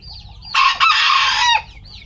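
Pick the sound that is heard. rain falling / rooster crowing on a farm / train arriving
rooster crowing on a farm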